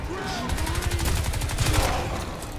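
Continuous rapid gunfire from alien enemies in Crysis 2, loud and dense, rattling steadily throughout with no pauses.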